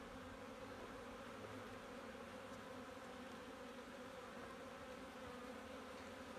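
Honeybees laden with pollen hum at a hive during a February winter check, a continuous soft drone of many wings, faint and even throughout.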